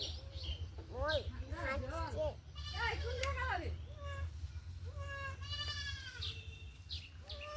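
Several goats bleat loudly and repeatedly during castration on a farm, wavering cries coming in quick bursts over a steady low hum, with chirping birds in the background.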